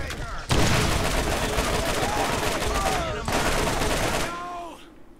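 Sustained enemy turret gunfire in a Borderlands shooter game, dense rapid bursts with loud explosive hits running nearly continuously, a short break midway, then fading out at the end, with a voice talking over it.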